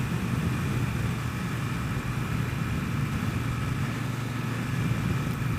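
Triumph Bobber motorcycle engine running steadily while riding, a continuous mid-low rumble with constant loudness and no voices.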